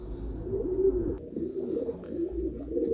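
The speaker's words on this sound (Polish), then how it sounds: "To jest od pana Nowakowskiego gołąb, od prezesa oddziału Milicz." Pigeons coo softly and continuously, low throaty calls overlapping close by.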